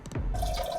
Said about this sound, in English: It's the forever pee